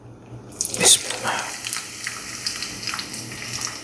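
Sliced onion dropped into hot oil with dried red chili while cooking an egg, eggplant and tomato curry, giving a sudden bright sizzle that starts loud and settles into a steady crackling hiss, close by.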